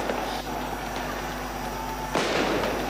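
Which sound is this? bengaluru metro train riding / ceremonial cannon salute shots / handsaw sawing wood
ceremonial cannon salute shots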